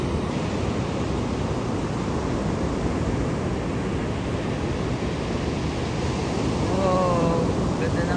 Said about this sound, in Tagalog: Ang lakas ng alon.